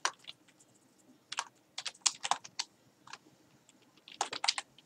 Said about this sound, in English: This is really like typing.